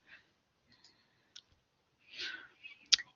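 Soft, sparse computer mouse clicks sound close and faint at a quiet desk, a few sharp ticks spread over a few seconds.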